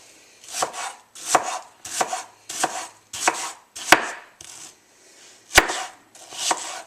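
A knife chops a sweet red onion on a cutting board in a home kitchen, giving about nine crisp, evenly spaced strokes, close and fairly loud, with a couple of sharper knocks mixed in.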